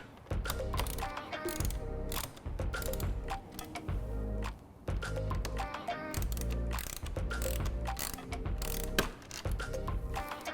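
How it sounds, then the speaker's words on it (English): A T27 ratchet tightens bolts on a BMW R1300GS headlight guard, giving rapid clicking pawl bursts in several close, loud runs with brief pauses between strokes. "we'll use our T27 ratchet to get these bolts fully seated"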